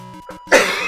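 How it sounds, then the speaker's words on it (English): A single short, sharp cough bursts out after a moment of soft electronic game tones from Kirby's Adventure. "There was a nice little cough."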